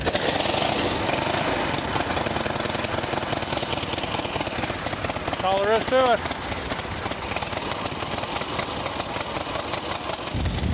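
A kick-started antique motorcycle engine with total-loss oiling chugs and idles with a rapid, uneven popping beat, loud and close, while someone speaks briefly over it.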